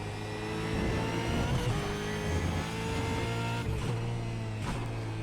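An Australian Supercar in the iRacing sim at Brands Hatch, its engine droning steadily with a harsh, buzzy note and small shifts in revs, continuous and fairly close.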